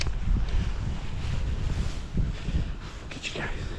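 Gusty wind buffets the microphone outdoors on a walk with several dogs, a steady loud broadband rush with low rumbling swells throughout.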